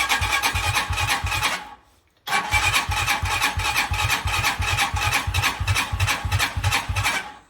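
An RPS Magician 250cc motorcycle engine being started with the choke fully up: a loud, rapid rasping crank that cuts out briefly, then resumes in steady pulsing strokes close by.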